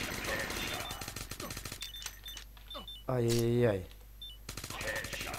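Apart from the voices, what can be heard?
machine gun firing in the video game Stickman and Gun 2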